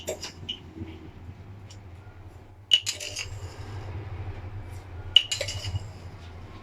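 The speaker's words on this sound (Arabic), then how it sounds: "واقلب السكر اهو" A spoon clinks against a glass in a few sharp, bright taps while stirring three spoons of sugar into water, amid quiet scraping and faint background hum.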